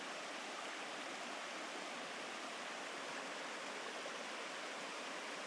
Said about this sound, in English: Can you guys hear the water, or is it too quiet?